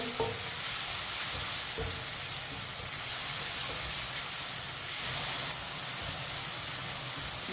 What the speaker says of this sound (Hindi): टमाटर और सब्ज मिर्च को मिक्स करके 2 मिनट के लिए पका लेंगे।